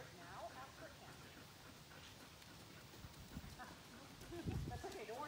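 Horse hooves canter across a riding arena, a soft rhythmic clip-clop running steadily under a person talking throughout.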